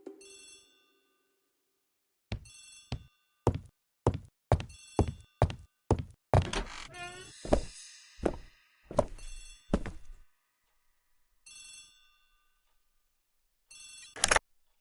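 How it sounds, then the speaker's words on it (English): A telephone rings out in a hall in repeated bright electronic bursts, with knocks and thuds between the rings, fairly close in an otherwise quiet room. "The telephone in the hall is ringing."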